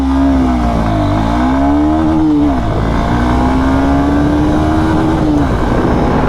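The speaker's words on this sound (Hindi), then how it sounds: "चलिए एक्सेलरेशन टेस्ट इसकी भी करते हैं" A Honda Hornet 2.0 motorcycle pulls hard from first gear in an acceleration run, its loud, close engine note climbing steadily, dipping briefly at a gear change, then rising again without pause.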